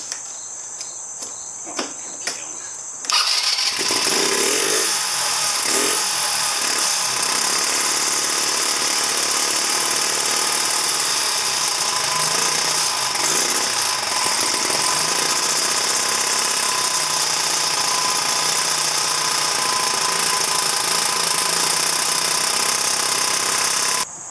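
After a few seconds of quiet, a 2009 Genuine Buddy 125 scooter engine catches and settles into a steady, close, buzzing idle that runs evenly to the end.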